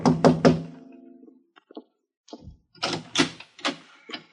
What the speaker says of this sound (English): I was still weaving on my feet when I tapped on the door